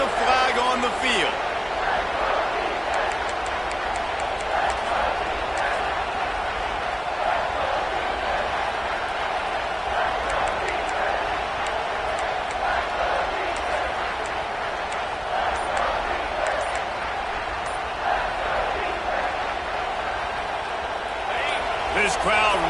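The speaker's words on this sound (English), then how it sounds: "This crowd rising up, sensing that its defense needs some help." Stadium crowd roaring in a football video game as a play is called back on a flag near the goal line, a steady loud wash of cheering that swells throughout, with game commentary talking over it.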